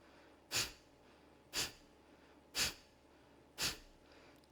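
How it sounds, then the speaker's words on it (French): Four evenly spaced, sharp forced exhalations through the nose in Kapalabhati yoga breathing, each a short breathy burst about a second apart, close and clear with quiet passive inhales between. "c'est parti pour Kapalabhati. Expire, inspire."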